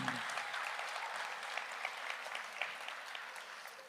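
Audience at a Tamil comedy debate show (pattimandram) applauding steadily, a dense wash of many hands clapping at moderate distance, continuous from start to finish with no voices over it.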